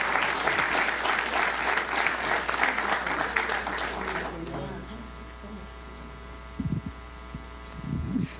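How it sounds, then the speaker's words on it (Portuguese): Congregation at a church service applauding loudly for several seconds, the dense clapping fading out midway and leaving a steady hum with a few brief knocks and bumps. "aplauda ao Senhor Jesus Cristo"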